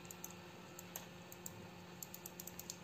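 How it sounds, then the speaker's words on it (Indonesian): A computer mouse button clicks in a quiet room, producing a string of faint, close, sharp ticks at uneven intervals, about a dozen presses in under three seconds. "kalau untuk mouse yang bunyi seperti ini nih, kalau diklik"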